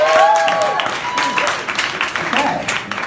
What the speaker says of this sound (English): now go ahead and applaud for me if you're single.